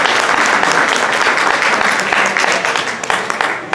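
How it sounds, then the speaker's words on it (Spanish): An audience applauds a doctor invited as the day's guest lecturer at a university talk, a dense, loud wash of many hands clapping that continues steadily and thins slightly toward the end. "Démosle un aplauso a la doctora Giovanna Eleonor"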